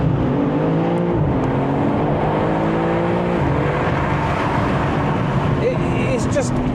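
A BMW M3 CS engine revs hard and accelerates through a tunnel with the windows down, the loud roar climbing through gear changes and echoing off the walls while a voice talks over it.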